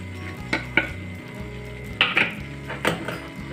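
A spoon scrapes and knocks against a pan while spices such as coriander powder, goda masala, turmeric and chilli are stirred into frying moong vadi, making several sharp clinks over a low steady sizzle, close and clear.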